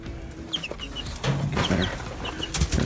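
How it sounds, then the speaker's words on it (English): Baby chicks about one to two weeks old cheep in short, high, repeated peeps close by, with soft clucking and rustling underneath. "Here's our little baby chickens."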